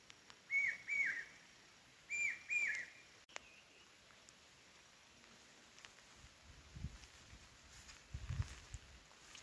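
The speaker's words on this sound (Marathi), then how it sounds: "इकडे कोकिळ आवाज करते" An Asian koel gives two clear whistled calls close together at the start, each a short run of rising notes. Quieter rustling and faint soft steps follow in a calm outdoor setting.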